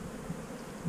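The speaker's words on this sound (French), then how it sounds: "ça c'est des abeilles qui sont sorties" Bees buzzing around an open beehive during an inspection, a faint low continuous hum, short and quiet.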